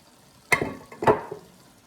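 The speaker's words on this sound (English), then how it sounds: "Hear that sizzling?" Two short bursts of sizzling from a hot pan as celery hits the oil and is stirred with other vegetables, fairly quiet and close.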